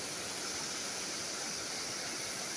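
Fast-flowing water in the BRB canal in Pakistan rushes in a steady, even broadband roar like a stream, constant and moderately distant with no voices.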